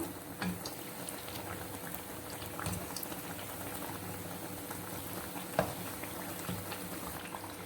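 Wheat flour appam fry in hot oil, a dense steady bubbling sizzle close up, with a few soft clicks and one sharp tap as the cakes are turned over one by one.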